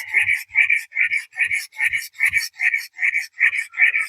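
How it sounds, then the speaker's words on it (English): A knife edge is honed on a 320-grit sharpening stone in about ten even, rhythmic scraping strokes, crisp and close, with short pauses between passes and no voices. "Then, you're just honing that edge, making it as fine as possible"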